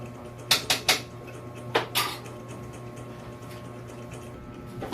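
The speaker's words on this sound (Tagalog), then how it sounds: "tapos na ako maghiwa ng patatas" A knife cuts potatoes on a board in a home kitchen, several sharp knocks in quick clusters followed by quieter scraping, with a low steady hum underneath.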